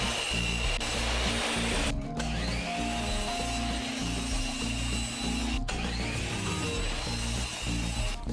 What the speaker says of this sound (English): start cutting some PVC board